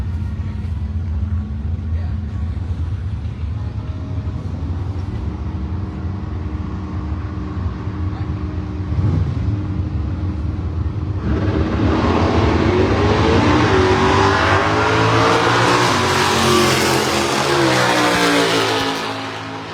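Drag race launch between a Hemi-powered 2015 Dodge Challenger and a small-block 1969 Chevrolet Camaro: a steady engine rumble at idle, then a loud, rising roar of hard acceleration that fills the final stretch before easing off.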